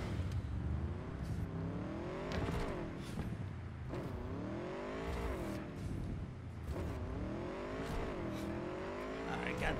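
A motorbike engine in the Cyberpunk 2077 video game, revving up and down in repeated rising and falling surges over a steady drone, loud and close, with a voice talking over it.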